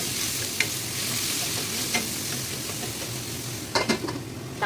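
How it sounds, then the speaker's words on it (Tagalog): Squid fries in cooking oil with a steady close sizzle and a few scattered clinks and stirring scrapes, loudest near the end. "Ayan natin yung mantika. Ayan ang gawin natin. Ayan. Lagay na natin ang ating pusit."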